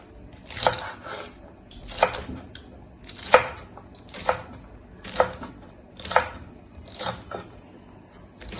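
Spring onions are chopped on a board, eight or nine crisp knife strokes at an even, unhurried pace, close and clear, with no talking.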